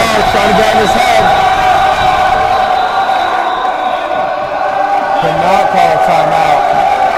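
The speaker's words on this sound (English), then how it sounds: "The crowd is going crazy." Loud, sustained crowd cheering and yelling at a high school basketball game fills the whole stretch, with an announcer talking over the noise.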